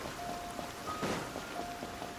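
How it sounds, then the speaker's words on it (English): Steady rainfall in the video game Genshin Impact, a soft continuous hiss of drops on surfaces with faint tonal game sounds threaded through, even and unbroken for the whole stretch. "It's raining."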